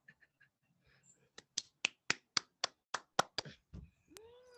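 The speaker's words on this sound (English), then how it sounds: "Big snaps and claps." An audience at a bilingual poetry event gives a run of big finger snaps mixed with claps, about a dozen crisp, close hits in a quick, loosening rhythm, ending with a brief voiced exclamation.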